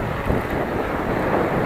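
Cold wind buffets a microphone during a bike ride near Pasong Tumana in Obando, a steady loud rumbling roar that fills the whole stretch with no speech.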